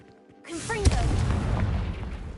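A Confringo blasting spell fired in Hogwarts Legacy on PS5, erupting after a short whooshing cast into a sharp bang and a sustained low rumbling blast, with game voices around it.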